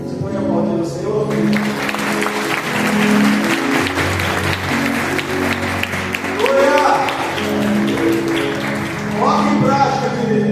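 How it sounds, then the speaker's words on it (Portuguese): A church congregation claps at a sermon, the applause building into a steady wash with rhythmic taps, under a low sustained musical backing and scattered voices. "Você pode aplaudir o Senhor?"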